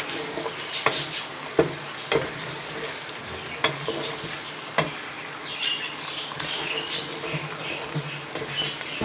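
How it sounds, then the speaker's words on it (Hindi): A spoon scrapes and stirs onion masala around a frying pan while it fries, giving repeated sharp taps and scrapes over a faint, steady sizzle, close and moderately quiet. "साथ साथ आप चम्मच हिलाते जाएं ताकि जो है मसाला हमारा नीचे ना लगे।"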